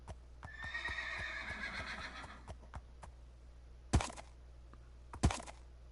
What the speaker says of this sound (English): Man, we got to tame a better horse.